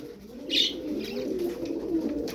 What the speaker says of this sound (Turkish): İyisiyle kötüsüyle böyle 14 tane kuş.